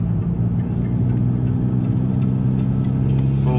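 A VW Golf Mk5 GTI engine pulls hard at full throttle in fourth gear. A loud, steady, close drone with a deep tone rises slowly through the whole stretch and fills it without any pause.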